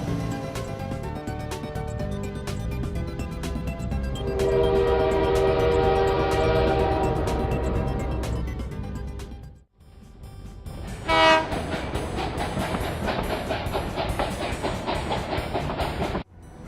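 A cartoon train sound effect: a loud sustained horn chord rising over rolling rail clatter, a pause, then a second horn blast and continued clickety-clack running steady to the end.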